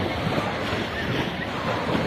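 Waves wash continuously onto a seashore beach, a broad steady surf hiss with a low rumble and wind noise, close and loud with no clear break between surges.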